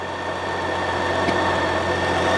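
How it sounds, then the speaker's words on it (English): A car engine idles steadily while its cooling fan blows, giving a constant, close hum and whoosh with no change in level across the short stretch. "Now the fan started to blow"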